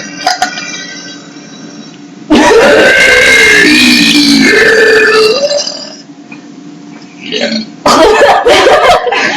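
Three girls in a burp contest let out long, loud, drawn-out burps one after another, each a guttural croak rising and falling, with short pauses and chatter between them.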